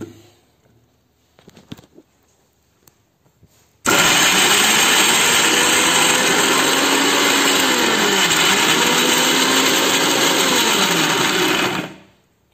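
A kitchen mixer grinder grinds raw green mango chutney in Kerala style, starting abruptly after a few quiet clicks and then running loud and steady with a whirring, wavering motor pitch until it cuts off.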